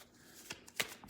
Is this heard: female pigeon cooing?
no